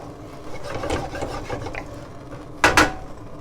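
Chicken ragu sauce being stirred in a pan, soft repeated scraping and rubbing of a utensil against the pan for a few seconds, then two sharper, louder scrapes near the end.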